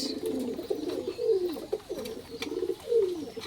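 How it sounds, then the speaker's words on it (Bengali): Madrasi Giribaz pigeons coo repeatedly nearby, with low, throaty, rolling calls overlapping in a steady rhythm. "দেখুন এখানে আরও কবুতর রয়েছে"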